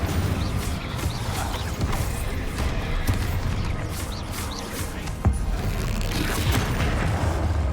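Rapid spell casting in Hogwarts Legacy, with dense booms, crashes and whooshing bursts overlapping continuously, loud and close, plus occasional faint game noise underneath.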